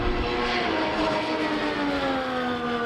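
A steady, high-pitched camera drone's motor buzz drones continuously, with rising and falling whine tones layered over broadband noise.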